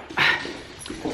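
A dog gives a short high whimpering yip, then softer whines follow, close by and fairly clear over a quiet background.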